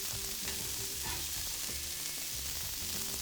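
Smashed beef burger patties fry on a Traeger griddle, giving a steady, dense sizzle and crackle of hot beef fat that carries on without break, near and fairly loud, with no talking.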